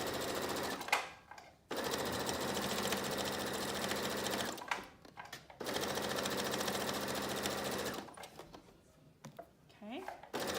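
Sewing machine stitching fabric for a beach bag in long steady runs, stopping briefly twice, with near, loud rapid needle chatter and a spoken voice heard in the pauses.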